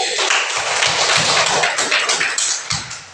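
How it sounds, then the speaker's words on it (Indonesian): Schoolchildren in a classroom clap together for a classmate after a correct answer, a close burst of loud, irregular hand claps that thins into a few separate claps near the end. "Tepuk tangan untuk Afra."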